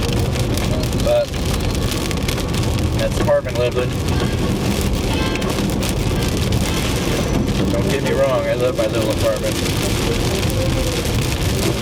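Heavy rain drumming steadily on a car while driving, a loud dense patter throughout, with someone talking over it.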